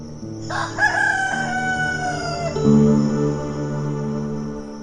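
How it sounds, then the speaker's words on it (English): A rooster crows loudly and close, a long drawn-out call that rises and then trails off, with other farmyard fowl clucking underneath. "And immediately, the rooster crowed the second time."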